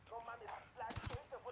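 A short, loud burst of three or four quick gunshots from Ghost Recon: Wildlands during a vault raid, with a voice talking around it.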